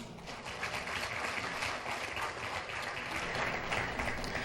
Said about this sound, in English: please give your parents a big round of applause